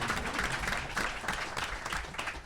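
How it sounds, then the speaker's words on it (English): Applause from an audience at a criminal justice reform coalition panel event, a steady dense wash of clapping lasting the whole short moment at moderate loudness. "I'll give him a round of applause on that."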